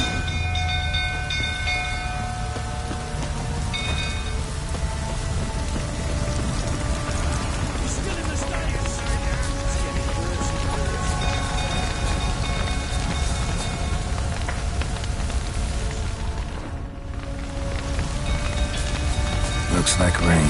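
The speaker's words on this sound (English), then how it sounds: "Looks like rain." Steady, loud rain falls across a burning village stable scene in The Witcher 3, a continuous wash of noise mixed with game music and ambient effects.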